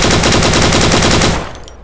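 A rifle in the video game Deadside fires a loud, rapid automatic burst of roughly twenty shots that stops abruptly, followed by a brief fading tail.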